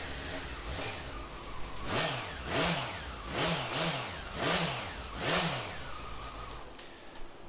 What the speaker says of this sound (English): Give it a quick start up.